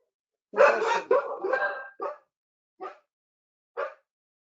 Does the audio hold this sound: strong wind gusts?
no